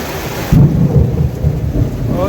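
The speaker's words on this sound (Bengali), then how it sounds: "ওই মেঘ ডাকছে দেখো।" Thunder rumbles low and steady through heavy rain in a Sundarban storm at dusk, the roar swelling loudly after a brief quieter start and holding continuous to the end, with no voices.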